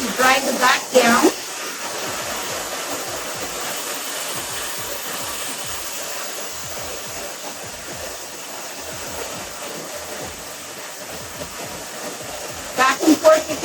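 A hair dryer blows steadily on the back of a woman's hair, a close, constant whooshing hiss for most of the stretch, cut off briefly at the start and end by louder handling bumps.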